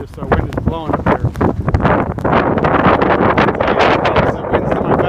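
Strong blizzard wind buffeting a microphone beside the Edens Expressway at Peterson in Chicago's Edgebrook neighborhood, loud rushing gusts that build and stay heavy, with bursts of noise that may include a voice.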